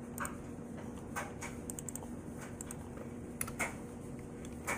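Quick bursts of keystrokes on a computer keyboard, close and crisp, in irregular clusters with short pauses between them over a low steady hum.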